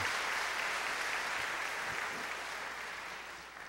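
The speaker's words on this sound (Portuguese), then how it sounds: "Você pode aplaudir e glorificar o nome do Senhor Jesus" Church congregation applauding in a sustained, dense roar of clapping that fills the space and tapers slightly toward the end, with no talk over it.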